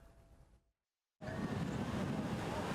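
Ocean waves at a summer beach give a faint wash, then a short gap of silence, followed by a louder, steady broadband roar of surf and wind.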